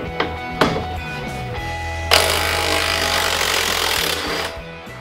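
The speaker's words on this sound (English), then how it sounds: "Now we're going to start by removing the front driver's side body mount bolt here." Front driver's side body mount bolt being removed from a Jeep Wrangler with a power tool: a couple of short knocks, then a loud steady whirring grind that runs for about three seconds and fades out.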